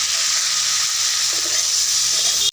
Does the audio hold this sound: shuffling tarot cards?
no